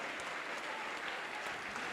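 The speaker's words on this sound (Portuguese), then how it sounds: "Vamos aplaudir mais, vamos aplaudir mais." Church congregation applauding continuously, a quiet but dense wash of many hands clapping, heard at a distance and steady throughout.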